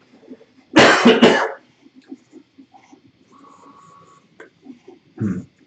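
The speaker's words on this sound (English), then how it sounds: "I just have a weird throat condition, gets dry and can cough" Two harsh coughs burst out close up, followed by quieter throat sounds, a few soft clicks and a brief later cough-like rasp.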